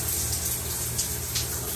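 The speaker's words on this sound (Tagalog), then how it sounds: "Ito lalabas yung tubig sa falls." Water streams steadily from a shower tap in a home bathroom, a continuous close hiss and splash with no break throughout.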